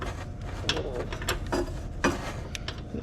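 A wrench loosening a part during an oil and filter change on a Polaris Hawkeye ATV, making a few ratcheting mechanical clicks and scrapes close by, with no talking.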